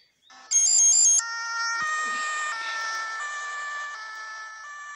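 Ambulance siren in the Duty Driver City LITE driving video game, a loud electronic wail with steady and shifting tones that starts abruptly and keeps sounding without talk.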